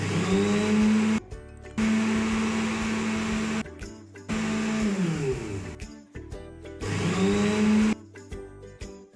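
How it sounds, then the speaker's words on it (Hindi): Blender pulsing pomegranate seeds in four short bursts of roughly a second each, a loud whirring motor with a steady tone that rises then cuts out, quiet gaps between pulses, no talking. "अब अनार भी ब्लेंडर में डाल दें, ब्लेंडर को कवर करें और इसको इंतहाई आराम से सिर्फ 1-1 सेकंड के लिए चलाएं"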